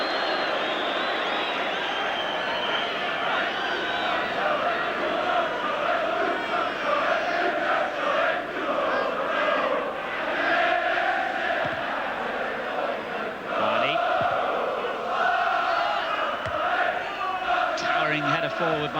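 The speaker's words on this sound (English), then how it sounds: "Joey Jones earns the biggest cheer of the night from the Wrexham supporters for that tackle" Wrexham supporters in a packed stadium roar and cheer loudly and continuously for a tackle during a European Cup Winners' Cup football match against Manchester United, with a commentator talking over the crowd.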